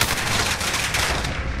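Gunfire in the Call of Duty video game, testing the AN-94 rifle: dense, continuous rapid shots and bursts, loud and close, filling the whole stretch without pause.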